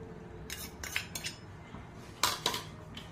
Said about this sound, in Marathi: एका बाउल मध्ये सगळं टाकून घ्यायचंय